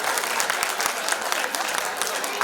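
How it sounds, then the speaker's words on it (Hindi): A crowd claps loudly and continuously at a school annual function prize ceremony, dense steady applause filling the whole stretch with no voices standing out. "एक बार इन सभी के लिए जोरदार ताली।"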